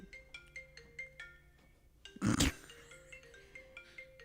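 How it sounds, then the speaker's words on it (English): A phone ringtone plays in a studio setting as a repeating electronic melody of short tonal notes. It is broken midway by a loud, brief burst of noise, then the tune continues. "It was a phone call."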